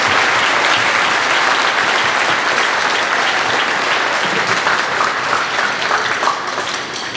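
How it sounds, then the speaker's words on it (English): Sustained audience applause at a school district concert, a dense, even roar of many hands clapping close by, fading slightly toward the end with no talking over it. "give them a round of applause"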